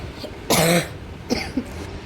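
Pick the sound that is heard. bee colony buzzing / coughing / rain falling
coughing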